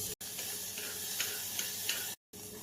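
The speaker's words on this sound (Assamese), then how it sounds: "এতিয়া কুকাৰত আধা চামুচমান ঘি গৰম হ'বলৈ দি প্ৰথমতে তিয়াই ৰখা চাউল দালিখিনি অকণমান সময় ভাজি" Soaked rice and lentils frying in half a spoon of ghee in a pressure cooker give a soft, quiet sizzle with faint stirring scrapes over about three seconds, broken by two brief silent gaps.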